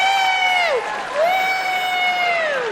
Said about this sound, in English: How many people here by applause are 40 or younger?